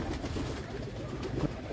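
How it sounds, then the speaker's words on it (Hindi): Soft, low pigeon coos murmur against a noisy outdoor background, faint and continuous over a short stretch. "आ रहे हैं ये देख रहे हैं मेरे कबूतर"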